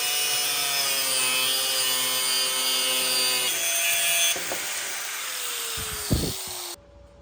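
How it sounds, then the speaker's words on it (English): A hand or power saw cuts the threaded end off a steel bolt clamped in a bench vise, producing a steady, loud grinding buzz that runs for several seconds before changing pitch and stopping abruptly near the end. "I put it into the vise so that we can go ahead and cut the threads off"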